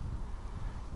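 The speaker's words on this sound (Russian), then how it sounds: "Ветер начинается." A brief gust of wind buffets the microphone with a low, uneven rumble, outdoors during an April mushroom hunt in Crimea.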